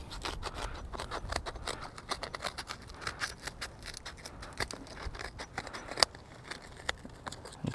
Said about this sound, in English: scissors work really well for me